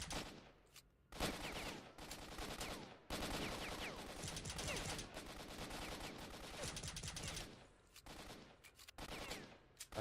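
Sustained automatic gunfire in Stalker 2, a dense rattling barrage of rapid shots that runs loud and near through most of the stretch, with brief pauses between bursts.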